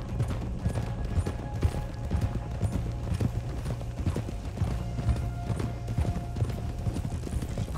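Horse hooves clip-clopping steadily in the Red Dead Redemption 2 video game, a close, regular rhythm of hoof strikes at a walking pace with faint background noise.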